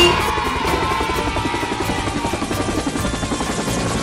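Helicopter in the Roblox Jailbreak video game, a loud steady rotor drone with rapid chopping pulses throughout, no talk over it.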